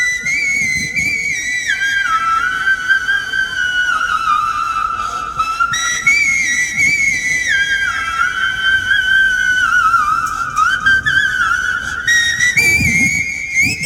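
Steady, loud melodic whistling by mouth that imitates the flute tune from the film Hero, played at a village festival, with long sustained phrases and gliding notes continuing without pause.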